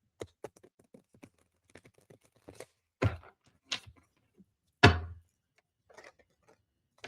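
Tarot cards are shuffled close by, with scattered soft taps and a few sharper slaps and flutters as cards are handled, set against a quiet room.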